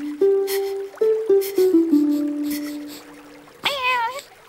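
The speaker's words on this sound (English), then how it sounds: "Meow." A cartoon cat meows once, a loud rising and falling call at the end, after a melodic sequence of sustained tones.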